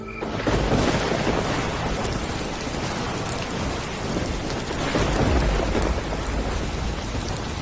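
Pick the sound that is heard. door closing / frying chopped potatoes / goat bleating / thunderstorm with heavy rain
thunderstorm with heavy rain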